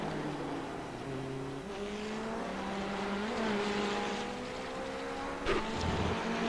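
Sports cars lap Daytona in a racing video game, several engines droning steadily with rising and falling pitch as they shift and pass, ending in a brief sharp burst near the close.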